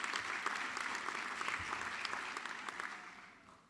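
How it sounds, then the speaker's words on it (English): Graduates applauding at a Chesapeake College commencement ceremony, dense steady clapping from a crowd that gradually fades out. "Give yourself a round of applause."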